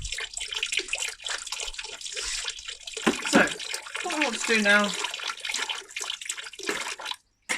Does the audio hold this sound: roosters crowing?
no